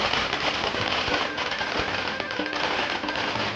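Dense, continuous crackling and popping of firecrackers bursting close by during a Hindu goddess festival procession in Bangalore, a loud unbroken rattle with a few sharper bangs.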